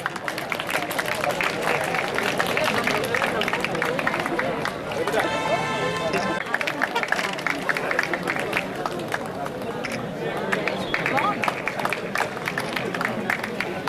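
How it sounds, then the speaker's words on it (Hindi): An audience at an alumni meet award ceremony applauds steadily throughout, with crowd chatter and voices mixed in. "तालियों से इस्तकबाल करें"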